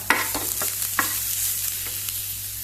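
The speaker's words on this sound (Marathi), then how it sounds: "आता हे दवळुया." A spoon scrapes through red masala in a hot pan in several quick, uneven strokes over a constant sizzle, close up and without speech.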